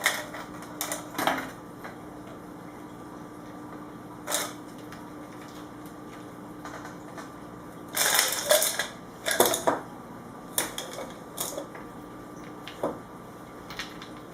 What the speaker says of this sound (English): The bigger ice cubes are a little bit harder to get stuck to the fabric